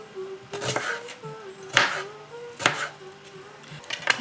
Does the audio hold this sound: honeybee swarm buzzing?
no